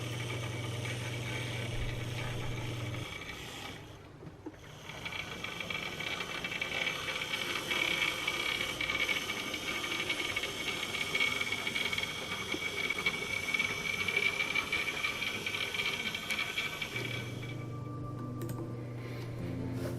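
Steady mechanical whirring and clicking of small motors as a Triang L1 and a Pannier tank model locomotive run continuously, with a brief dip partway through before the hum resumes at an even level.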